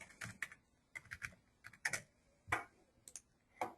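Typing on a computer keyboard: bursts of quick, crisp key clicks in uneven clusters with brief pauses between them, close and fairly quiet, no voice heard.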